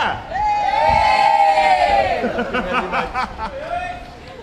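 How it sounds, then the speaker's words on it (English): A crowd of onlookers at a lucky chimney sweep's appearance lets out a big, sustained cheer and shouts that fade into scattered calls and laughter. "Come on, a big cheer!"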